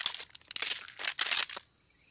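A cartoon egg cracking open on its own: a run of dry, crisp crackling and crunching bursts in close succession, fairly loud and near, breaking off into near silence at the end.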